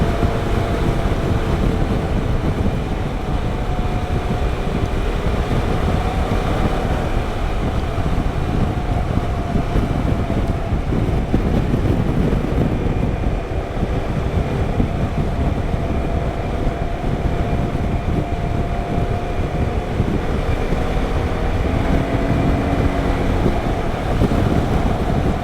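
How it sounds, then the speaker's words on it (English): Steady, loud wind rush buffets the microphone throughout a motorcycle ride past farmland on a river run, with a constant low engine-and-road drone underneath and no voices. "Now I'm riding on the wind on a motorcycle."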